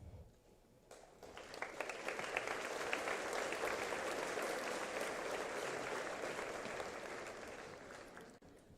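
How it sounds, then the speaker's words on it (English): A graduation audience at a high school ceremony breaks into applause, swelling from quiet to a broad, sustained wash of clapping that gradually tapers off near the end. "give them a little wave and a round of applause"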